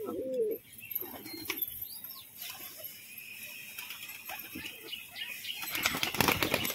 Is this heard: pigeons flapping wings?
yes